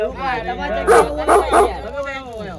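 A dog gives a few short, sharp barks close by, mixed in with people talking over it.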